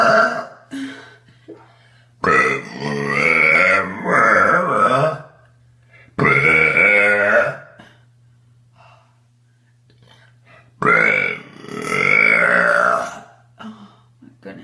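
A woman lets out a series of big, drawn-out burps, four long croaking belches separated by quiet pauses, close and loud with breathy edges.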